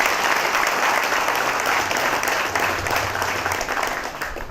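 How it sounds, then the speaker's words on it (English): Audience at a prison futsal launch event applauding the coach, a dense, sustained round of many hands clapping that fades slightly toward the end, with no talking. "I want to give him a round of applause"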